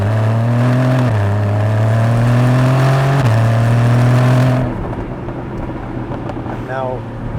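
A Porsche Cayman 981 GTS engine drones loudly up close, climbing in pitch through a gear, then blipping down on a downshift before falling away to a quieter, lower rumble.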